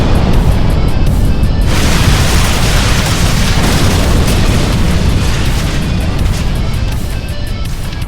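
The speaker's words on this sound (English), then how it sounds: "we see the mad teleslab get demolished and crumble on impact from Cervantes'" A massive slab is smashed apart by a ship's impact, bursting into a loud, sustained roar of crumbling debris and rumbling destruction that fills the whole stretch without letting up.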